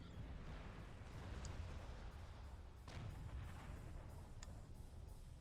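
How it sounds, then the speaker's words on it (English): In the video game Star Trek Online, a starship blast rumbles low and heavy beneath a dense roar, with a couple of sharp cracks breaking through as the explosion rolls on. "That was a big explosion."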